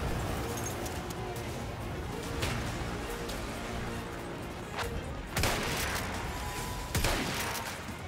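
Gunfire in the video game Battlefield 1 sounds as scattered sharp shots and cracks, a few standing out loudly against steady battlefield rumble, with someone talking intermittently.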